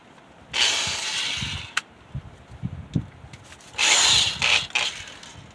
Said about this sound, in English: one of those fiber wheels that strips off the paint and clear coat and everything else for auto body use